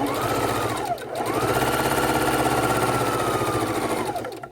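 A sewing machine runs steadily while stitching quilt seams, a fast, even mechanical whirring with a brief slowdown near the start before it picks up speed again and runs continuously, close and loud.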